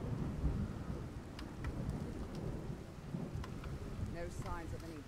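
Steady heavy rain with rolling thunder from a Skyrim weather mod, a continuous dense downpour hiss filling the scene, with brief faint tonal blips near the end.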